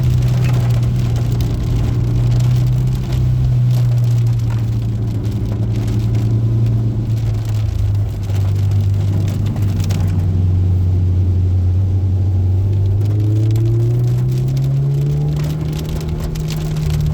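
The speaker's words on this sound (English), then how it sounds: "Oh, there's a lot of rain coming in." A car driving at night in heavy rain, with a continuous low engine and road rumble under a dense hiss of rain hitting the body, steady and close throughout.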